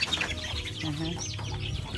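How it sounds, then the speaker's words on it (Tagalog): Chickens cluck softly nearby amid outdoor background noise, a few low murmuring calls close to the listener. "At may manok."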